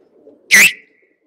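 A single pigeon coos once, a brief close call from a loft where the birds are let loose to spread out and play in the sun, followed by quiet.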